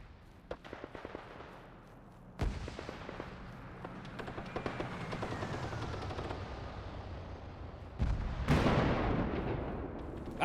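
Battlefield explosions and gunfire in the video game Arma 3, with scattered sharp shots and two big booming blasts separated by a rumbling stretch, loud and near.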